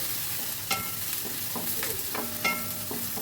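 Onions frying in a pan with salt are stirred constantly, so a steady hiss of sizzling runs under a series of clear spatula scrapes and taps, close up with no one talking.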